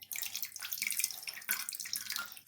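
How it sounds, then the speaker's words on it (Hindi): Water splashes and pours over freshly made paneer being rinsed, a bright irregular gush with a few brief surges and no talking. "अब हम इसमें पानी डालकर खटास को निकाल देंगे।"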